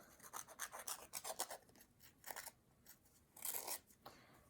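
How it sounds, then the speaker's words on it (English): A Holtz distressing tool is scraped along a paper edge in a series of quiet rasping strokes that come in irregular bursts, close and faint, with no talk. "I've got a cool little tool here from HOLTZ, and it's for distressing the edge of paper."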